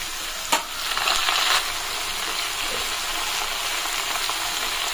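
Chopped ridge gourd hitting hot oil with garlic, chili and cumin gives a loud, steady sizzle. A brief clatter of stirring comes near the start, then an even frying hiss carries on to the end.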